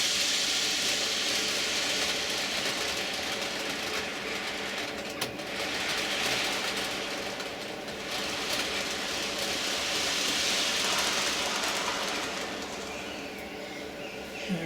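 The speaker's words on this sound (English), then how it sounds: "What I'll show you now is the container train going down that edge." A container train, apparently a model layout in a container yard, runs along the track with a steady mechanical whirr and faint rhythmic clatter, moderately quiet and continuous throughout.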